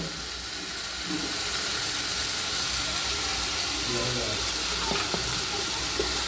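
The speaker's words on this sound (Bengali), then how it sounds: "আবারও আমি ভেজে নিচ্ছি পোস্ত দিয়েছি তো তাই আমি হলুদ দিলাম না" Poppy seeds fry in a pan with Kashmiri chilli and cumin powder for a mango chutney, a constant close sizzle and hiss with soft stirring scrapes, a voice briefly and faintly present.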